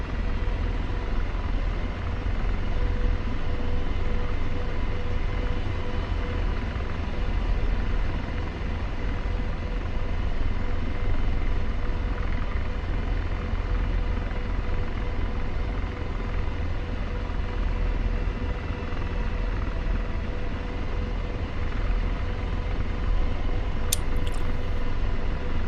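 An AH-64 helicopter in the DCS combat flight game gives off a steady, droning rotor and turbine roar. It stays constant and unbroken for the whole stretch, with no talk over it.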